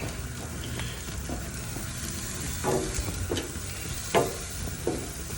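Onions laid on a hot grill sizzle softly and steadily, with a few brief clacks and scrapes as the pieces are set down together.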